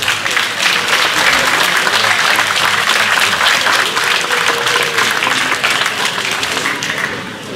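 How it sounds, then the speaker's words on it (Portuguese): A large audience claps steadily at a traditional cantoria singing event at the Festas da Praia in Praia da Vitória, welcoming a young singer from Fontinhas onto the stage; dense, loud applause sustained throughout before tapering slightly at the end. "É com grande gosto que chamo este palco para receber o vosso aplauso de boas-vindas, Samuel Borges."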